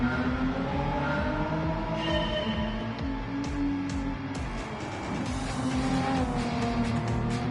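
A BMW M4 driven around a lap in Gran Turismo 7, its engine droning loudly and continuously with pitch rising and falling through gear changes, tires squealing through the corners.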